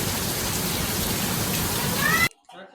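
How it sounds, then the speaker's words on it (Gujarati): Heavy rain drums on a car during a drive through Visnagar, a dense steady hiss that fills the cabin and then cuts off abruptly near the end. "હે જો ફૂલ વરસાદ ચાલુ થઈ ગયો છે."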